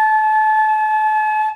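A flute head joint blown on its own with fast air gives one steady, clear, whistling tone held for about a second and a half, with no voices.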